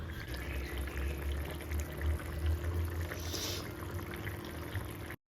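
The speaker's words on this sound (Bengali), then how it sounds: "আমি ভেজে রাখা ডিমগুলো দিয়ে পাঁচ থেকে দশ মিনিটের মতো আবারও ফুটিয়ে নেব" Egg and potato curry simmering in a pan with fried eggs and green chillies, giving a steady low bubbling and soft hiss close by, continuous without any talking.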